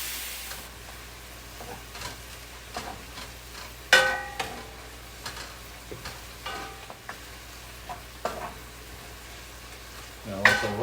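Vegan porkless tenderloin cooking with mushrooms in a pan, a steady soft sizzle and frying hiss broken by occasional louder clinks and scrapes of stirring.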